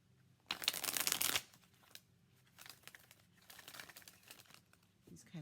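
A loud burst of tarot cards riffling and crinkling, the cards sticking slightly, followed by softer rustling and shuffling of cards close by.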